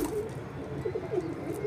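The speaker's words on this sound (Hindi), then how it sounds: "देख सकते हो भाई कितना ज़्यादा हाँफ रहा है कबूतर।" A young pigeon on a rooftop after flying makes soft, repeated low cooing or panting sounds, close and quiet, in a short steady sequence without talk.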